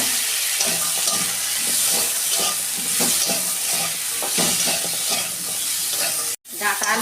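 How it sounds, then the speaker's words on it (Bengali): Drumstick and potato pieces fry in oil in a pan, giving a loud, dense sizzle close by with repeated stirring scrapes. A short cut comes near the end before the sizzling resumes. "ডাঁটা আলুটা আমার ভাজা হয়ে গেছে"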